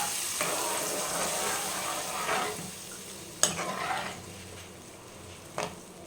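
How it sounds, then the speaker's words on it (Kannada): Squeezed tamarind fries in oil while being stirred, a soft steady sizzle with a few sharp clinks of a utensil against the pan, fairly quiet and with no talking. "ನಾವು ಗಟ್ಟಿಯಾಗಿ ಹಿಂಡಿ ಇಟ್ಕೊಂಡಿರ್ತೀವಲ್ಲ ಹುಣಸೆಹಣ್ಣು, ಅದನ್ನು ನಿಧಾನಕ್ಕೆ ಎಣ್ಣೆಯೊಳಗೆ ಹಾಕ್ಕೊಂಬಿಡಿ"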